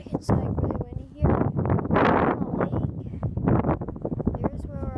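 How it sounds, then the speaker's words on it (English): Strong gusts buffet the microphone at a lakeside campsite, a heavy roaring rumble that rises and falls in bursts throughout, with people talking over it. "Sorry about the wind. It's like really windy here."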